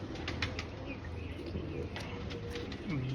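Pigeons coo softly amid a steady, noisy background hum, with faint flutters and chirps scattered through.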